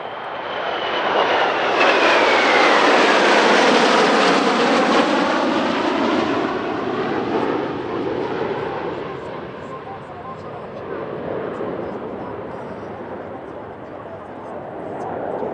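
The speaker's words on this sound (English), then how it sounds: "Then 4 of Italy's 84 Tornadoes, an aircraft due for retirement in 2025, and they're followed by 3 of their 24 A11 Ghiblis" Italian Air Force Tornado and AMX Ghibli jets roar past at the air force centenary airshow. The engine noise swells and sweeps in pitch as they fly by, then holds as a loud, sustained rumble.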